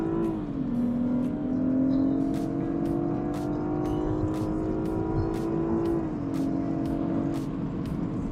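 A BMW F30 in sports mode accelerates through the gears from inside the cabin, its engine note climbing steadily, then dropping briefly at a shift before rising again, with a steady rhythmic ticking throughout.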